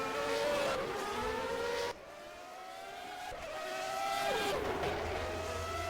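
Race cars in low-downforce setup roaring down a straight in a racing video game at the Canadian Grand Prix circuit, engine pitch climbing through gears with abrupt shift drops, loud and close, no voices.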